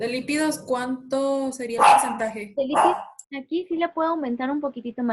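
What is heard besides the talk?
dog barking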